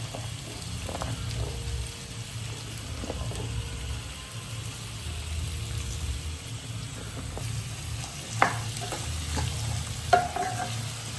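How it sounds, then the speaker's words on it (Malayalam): Onion chunks, shallots and curry leaves fry in a pan, with steady sizzling under repeated scraping stirs and a couple of sharper clacks of the spoon near the end; no talking. "നമ്മൾ ക്യൂബായിട്ട് കട്ട് ചെയ്ത വലിയ ഉള്ളി ആഡ് ചെയ്യാം. വലിയ ഉള്ളി കറിവേപ്പില."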